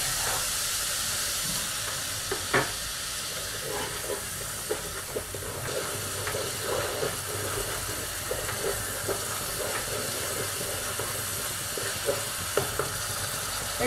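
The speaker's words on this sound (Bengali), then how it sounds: "পেঁয়াজটা একটু ভাজা হয়ে এসছে, আমি টমেটো পিউরিটা এবার দিয়ে দেব।" Onion fries in a pan with tomato puree added for a Bengali rohu fish curry in yogurt, a continuous moderate sizzle and hiss broken by occasional clicks and stirring taps.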